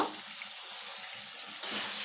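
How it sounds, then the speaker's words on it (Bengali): Water is poured into mutton frying in a pan, raising a soft, steady sizzle and bubbling that surges slightly near the end, with no voices. "এখন আমি একটু করে জল দিয়ে দিব"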